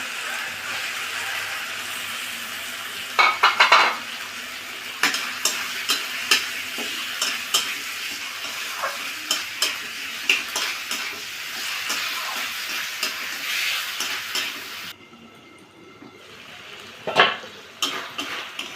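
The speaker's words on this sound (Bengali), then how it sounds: "দেখুন কি সুন্দর কষানো হচ্ছে, কালারটাও সেই হয়েছে" Chicken scraps sautéed with spice paste in a pan, giving a steady close sizzle broken by frequent scraping stirs and light utensil knocks, with a brief quieter lull near the end.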